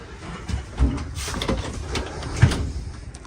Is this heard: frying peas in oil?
no